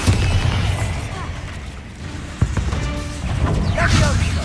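A Bombarda explosion spell in a Hogwarts Legacy battle, a sharp boom cutting through a loud, rumbling stream of combat noise, with crackling effects and a voice calling out spells.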